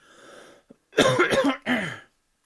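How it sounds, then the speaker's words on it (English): A few harsh coughs in quick succession, close and loud, after a moment of soft background murmur. "I'm going to have to cough, sorry."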